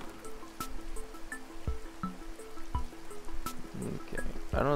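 Rain in the video game A Hat in Time patters and drips steadily, with scattered sharp droplet ticks over a soft wet hiss and a few brief splashy sounds near the end.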